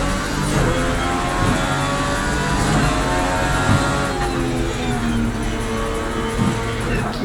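A continuous car engine drone with shifting revs from the racing game Project Cars 3, steady and loud throughout, with a busy layered mix of mechanical noise.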